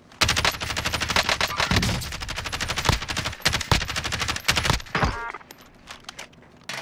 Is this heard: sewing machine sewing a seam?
no